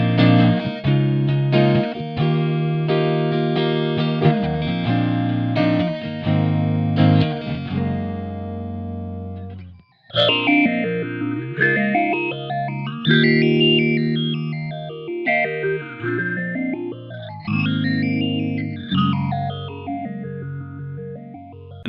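Heavily modulated electric guitar chords through a pedal's step motion phaser, pulsing in a rhythmic arpeggio-like pattern, loud and continuous with no talking.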